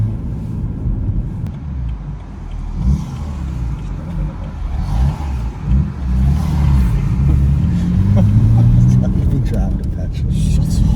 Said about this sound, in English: The cold start, it doesn't really come on to choke massively. It doesn't really sound any different.